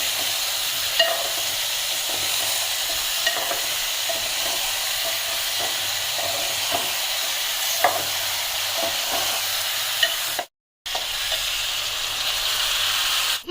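Large prawns cook in a pan with a continuous hissing sizzle and steam, punctuated by the scrape and clink of stirring, briefly cut to silence near the end, no talking.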